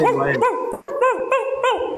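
A voice imitates a dog barking, giving a run of yappy, whimpering bow-wow sounds in quick bursts, close and loud, with a brief pause partway through.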